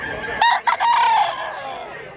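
A handsome golden-feathered rooster, about two years old, bought at a Mantalungon, Cebu fowl market, lets out a single clear crow that rises, breaks briefly, then holds before fading, close and loud.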